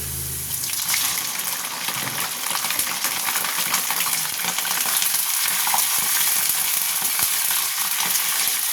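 Chicken fries with browned onion in a pan, giving a loud, dense, continuous sizzle with crackling pops and occasional stirring scrapes, close by, with no talking.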